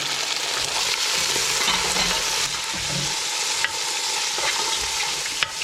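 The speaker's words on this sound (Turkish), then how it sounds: "Şimdi etimizi kavrulmaya bıraktık." Meat, onions and garlic fry in a pot with a continuous hissing sizzle, broken by occasional stirring scrapes and a few sharp clicks, close and steady without voices.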